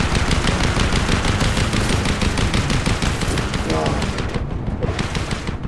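Rapid automatic gunfire in a Fortnite match, continuous bursts of loud shots in a fast steady rhythm, briefly dropping out near the end, with a voice reacting over it.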